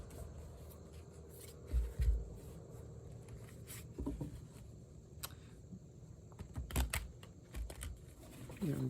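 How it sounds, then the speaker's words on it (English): Tarot cards shuffled by hand during a reading, soft papery riffling and tapping in short scattered bursts, quiet and close, with a few louder thumps from the deck settling. "Some shuffling, of course."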